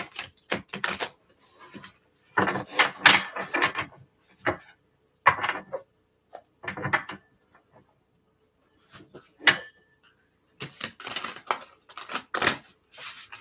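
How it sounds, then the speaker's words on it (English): Tarot cards shuffled by hand during a live reading, heard as bursts of crisp, papery riffling and tapping separated by short pauses, close and fairly loud with no talk. "why am I shuffling the cards this way?"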